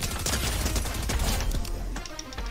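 Rapid SMG gunfire from Fortnite rattles out in a dense burst of close, loud shots that runs almost without pause for a couple of seconds.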